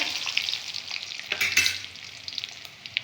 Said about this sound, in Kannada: ಇವಾಗ ನಾನು ಒಂದು ಮೆಣ್ಸಿನ್ಕಾಯಿ ಹಾಕ್ಕೊತಾ ಇದ್ದೀನಿ